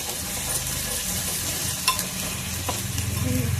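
Chopped onions fry in a pan for brinjal curry, a steady close sizzle with occasional utensil scrapes and clicks of stirring.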